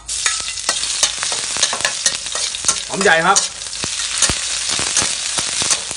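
Steady oil sizzle in a hot pan with chopped garlic and onion frying, with frequent sharp scrapes of a utensil stirring; someone speaks briefly partway through.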